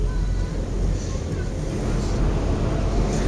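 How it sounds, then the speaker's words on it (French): Gusty wind buffets a cable car riding up toward Montjuic Castle in Barcelona, a continuous rough roar of microphone wind noise filling the whole moment, loud and close. "ça bouge. Il y a du vent."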